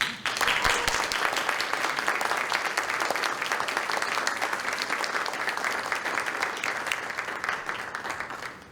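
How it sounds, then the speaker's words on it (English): An audience at an evening lecture breaks into sustained applause for an author and songwriter, a dense, loud wash of many hands clapping that holds steady for several seconds before fading slightly, with no speech over it. "people clap before I've actually done anything"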